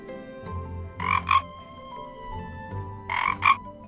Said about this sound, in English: He croaked.